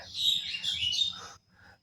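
Short, bright bird calls ring out at close range inside a pigeon farm's coop, a burst of chirping followed by a brief pause and a quieter final call.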